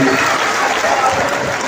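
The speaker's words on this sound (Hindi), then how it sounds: "एक बार रतनगढ़ वालों के लिए जोरदार ताली बजा सकते हैं" Loud, sustained applause from a large audience at a Hindu Shiv Mahapuran religious discourse gathering, a thick, continuous rattle of many hands clapping together from start to finish.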